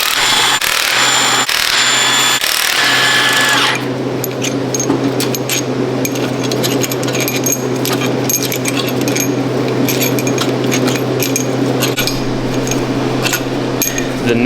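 Hand tools working on a Duramax diesel engine, pulling the cylinder head and its head bolts: metallic clinks, jangles and ratchety taps, with a steady low hum underneath.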